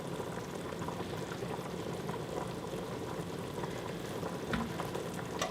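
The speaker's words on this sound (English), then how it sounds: "the pan has heated and we're going to add 1 cup of milk, half a cup of heavy cream" Milk and heavy cream poured into a heated pan, a steady faint sizzling, bubbling liquid wash that continues evenly throughout, close by with no talking.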